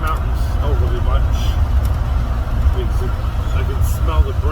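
A Jeep DJ5 engine labours up mountain roads with a constant, heavy low rumble that stays loud throughout while someone talks over it.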